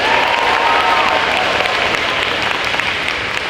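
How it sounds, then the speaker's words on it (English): Loud, dense applause from a school audience at a spoken-word poetry slam, a steady wash of many hands clapping for the full stretch with no pause. "Could we have one more round of applause for his performance?"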